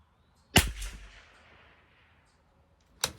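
A CZ 457 LRP rifle firing Lapua Center X ammunition at a 50-yard range gives one sharp, loud crack with a short decaying echo, followed a few seconds later by the onset of another sharp report.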